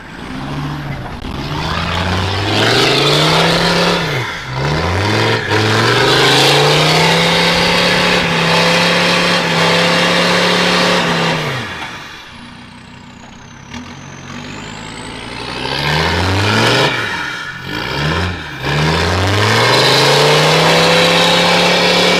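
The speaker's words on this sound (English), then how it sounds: "then send the trucks on through" Trucks on a touring trip drive through one after another, engines revving and shifting loudly up close, with a quieter lull midway before more engines rise and pass again.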